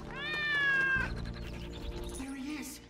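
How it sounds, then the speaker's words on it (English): A cat in the LEGO Marvel's Avengers video game, set on a farm, lets out one loud, drawn-out meow up front, followed by quieter game sounds and a voice speaking. "Now, where'd that darn cat get to?"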